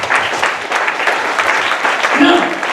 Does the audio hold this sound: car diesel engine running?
no